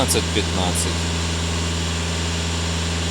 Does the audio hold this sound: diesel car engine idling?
yes